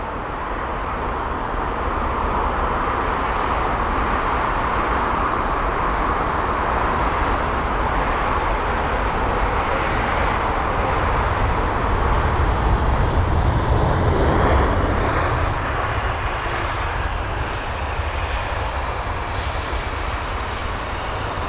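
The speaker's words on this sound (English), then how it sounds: "So this A320 is 20 years of age, first registered September 2002" An Airbus A320 airliner, twenty years old, at London Heathrow gives a steady, loud broadband engine roar that swells and holds for the whole stretch, with no voices over it.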